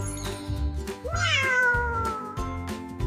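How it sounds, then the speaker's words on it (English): A cat meows loudly several times in succession, each meow a drawn-out rising and falling call, close and clear with no talking. "It's a cat"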